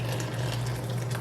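Boiled pickling brine for pickled mushrooms pours steadily into a measuring cup, a loud, close, continuous gushing stream with a low hollow fill tone and no voices.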